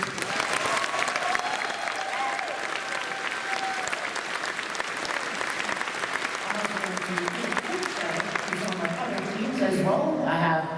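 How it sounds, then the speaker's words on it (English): A large convention audience at a closing ceremony gives dense, sustained applause that fills the hall. Cheers and voices rise through it, and the applause swells again near the end. "Can we get a round of applause for them, please?"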